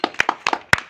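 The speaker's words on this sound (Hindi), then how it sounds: "ताली बजाओ, ताली बजाओ।" A few children clap in short, uneven bursts during practice for a 26 January Republic Day program. There are about five sharp, close hand claps with small gaps between them and no talking.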